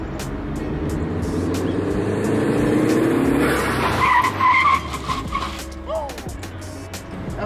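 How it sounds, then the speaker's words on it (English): A car with a new Yellow Speed big brake kit slows hard in a brake test, its tires squealing loudly against the pavement for a few seconds before it settles to a stop. "we're going to do a brake test with our new Yellow Speed Big Brake Kit"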